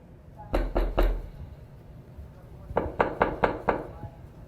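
Knocking on a door, two clear bursts of raps, three quick knocks and then about five more, loud and close with no speech.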